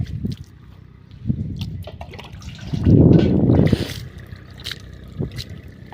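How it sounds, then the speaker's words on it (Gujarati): Water is sprinkled and splashed in a buffalo shed, with a louder splashing burst midway through over low, rumbling background noise. "આપણે પાણી છાંટી દઈએ"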